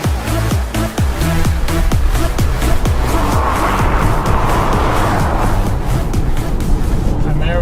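A BMW and a Tesla launch side by side in a drag race, the engine revving and roaring hard with rapid rhythmic pulses early on, then a sustained loud rush of acceleration close by.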